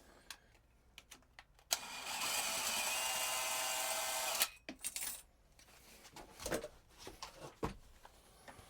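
A power drill whirs loudly for about three seconds while working on a pool sand filter's barb fitting, then stops, followed by scattered clicks and handling noises.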